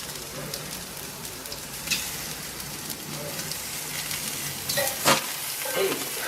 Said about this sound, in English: Steak and sausages On the grill.